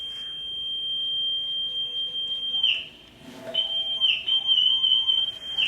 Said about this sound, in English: your volume control gives you this crazy high-pitched whistle when you're in harmonic mode